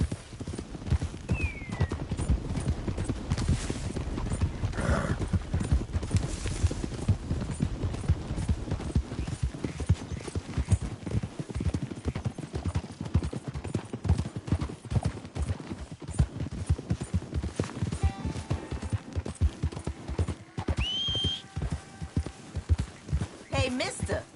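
Horse hooves clip-clop steadily at a brisk pace in Red Dead Redemption 2, with a brief whinny partway through, over a busy background of game sounds.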